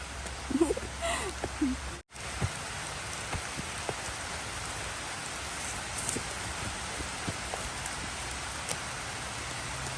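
Steady rain patters down through a forest in an outdoor setting where mushrooms are being gathered, a dense continuous hiss of drops on leaves and ground, with a brief rustle early on and no one speaking.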